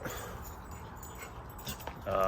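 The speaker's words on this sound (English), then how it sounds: "They'll probably end up, play fighting and barking" Dogs play fighting give brief whimpers and yips under a person speaking nearby, short and fairly faint.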